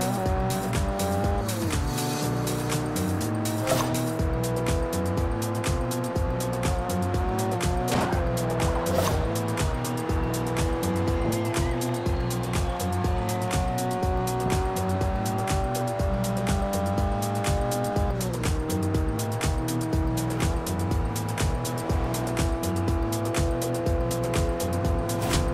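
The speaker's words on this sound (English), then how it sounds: "Oh, this one's loud. Loud by traffic car standards." Loud traffic car in the Forza Horizon 2 racing video game, its engine droning steadily throughout with shifting revs and occasional tire squeal, no talk over it.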